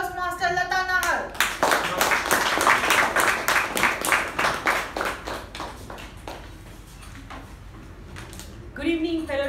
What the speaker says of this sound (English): with a big round of applause, welcome the charming Toastmaster Latha Nahar